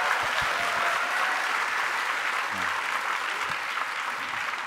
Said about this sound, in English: Can we have a round of applause before I do intros?